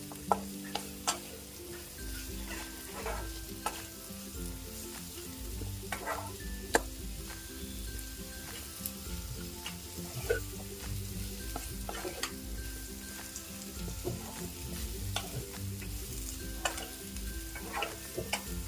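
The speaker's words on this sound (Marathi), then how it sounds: "एक मिनिट भर आपण भाजून घेतलेलं आहे हे सगळे मसाले आणि आपली कैरी तेलात" Spices and raw mango pieces sizzling in hot oil, a soft constant fry punctuated by frequent light clicks and scrapes of a stirring spoon against the pan, close and quiet with no voices.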